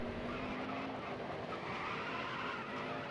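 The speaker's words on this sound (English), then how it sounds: "these rumble strips sound exactly like the ones from Phoenix" A race car engine drones steadily while tires rumble over a ridged rumble strip at Sonoma Raceway in a racing video game, a continuous buzzing rattle with no voices.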